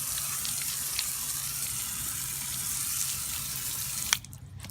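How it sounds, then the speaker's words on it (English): Water runs steadily over a freshly sanded wheel rim, a close, even hiss and splash that ends abruptly near the finish. "So what I do, wash it off."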